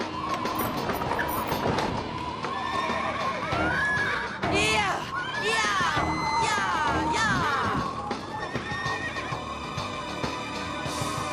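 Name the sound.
horses neighing and hooves clip-clopping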